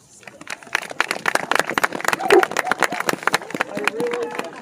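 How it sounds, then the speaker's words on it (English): A small outdoor crowd at a park unveiling of a carved linden oak claps in scattered, sharp bursts, with people talking throughout. "So please give Colin a little round of applause."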